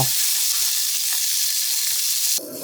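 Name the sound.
shishito peppers stir-frying in a hot pan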